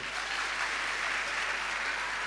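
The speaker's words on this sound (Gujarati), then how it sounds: "મિસ્ટર યશ જે ઊભા થાવ તમે એક તાળી એમના માટે બી પાડો છો" An audience claps for a man named Mr Yash at a Gujarati motivational talk, a dense steady wash of applause from many hands that holds evenly throughout with no voices over it.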